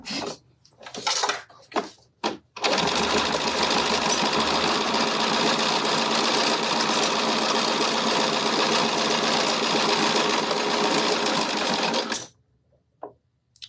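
A sewing machine stitches an exterior pocket on a fabric pouch, running in one steady, loud whirring burst for about ten seconds, framed by a few short start-and-stop stitches before and after.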